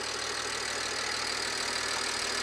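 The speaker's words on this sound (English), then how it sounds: "I really want to get that engine cover on just because it's so loud" A BMW E90's engine idles steadily right after a fuel injector upgrade, running with the cover off, a loud, continuous close-up drone with a faint ticking texture and no talking.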